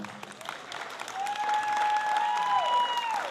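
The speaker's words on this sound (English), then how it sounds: "Let's give them a round of applause," Ladies and gentlemen applaud candidates at the Miss Haskell pageant, clapping building and holding steady, while sustained tonal notes, likely music or feedback, ring over the crowd.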